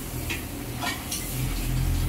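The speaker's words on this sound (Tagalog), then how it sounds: "Hugas lang muna tayo ng pinggan ha." Dishes are washed by hand, with close clinks and scrapes of plates and utensils against a constant rush of running water.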